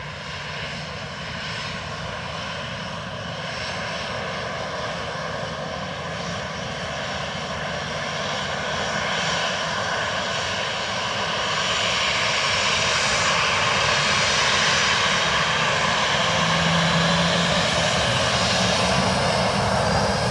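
A Ryanair airliner on approach to land on runway 28 left at Dublin Airport, its engine roar steady and broadband, slowly growing louder and nearer over about twenty seconds with no talk.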